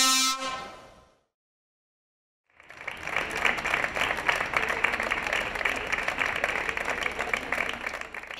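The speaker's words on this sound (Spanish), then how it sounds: "Este aplauso rompía el silencio guardado durante 5 minutos en la puerta del ayuntamiento" A horn blares briefly, then silence, then a crowd outside a town hall breaks into sustained clapping after a silence held for Ukraine, the applause continuing dense and fairly near to the end.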